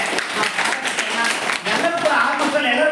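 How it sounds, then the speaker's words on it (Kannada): A classroom of tenth-grade students clapping to thank a classmate, a steady spatter of many hands applauding at moderate loudness for a few seconds, with faint talk underneath. "ಧನ್ಯವಾದಗಳನ್ನ ಚಪ್ಪಾಳೆ ಮೂಲಕ"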